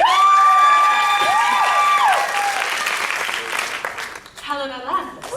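An audience at a stage musical of The Mystery of Edwin Drood breaks into applause and cheering, a loud, dense clatter that follows a held, ringing voice on stage.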